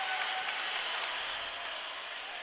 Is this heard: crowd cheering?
yes